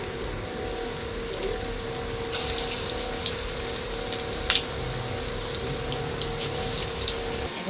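Pea pakoras fry in hot oil with a steady close sizzle and bubbling hiss, rising in short brighter spatters now and then; no one speaks.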